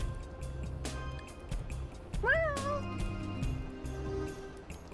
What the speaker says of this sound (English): Thank you for meowing.